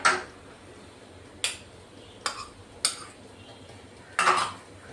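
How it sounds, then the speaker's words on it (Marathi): A spoon scrapes and clinks against a bowl while grated beetroot and carrot are mixed, with a handful of sharp separate knocks spread over a few seconds and no talking. "आपण मिक्स करून घेतोय आता"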